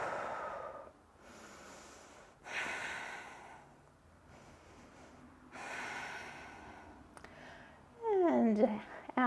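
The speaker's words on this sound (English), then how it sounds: "And breathe." Slow, deep breaths come in and out at a calm pace during a balance stretching exercise, soft and close, with breathy sighs and a brief voiced sound at the end.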